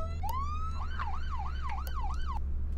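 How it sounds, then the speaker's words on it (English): A police car siren in the Flashing Lights game switches on with a rising tone, then wails in a fast repeating yelp over a steady low engine hum, with no talking. "Let's go ahead and turn the sirens on here."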